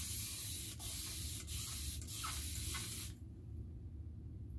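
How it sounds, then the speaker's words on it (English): A fine-mist spray bottle of facial toner gives several short hissing spritzes in quick succession, close and clear, before falling to a quiet room tone. "I put my toner in this because I love the mist of this bottle."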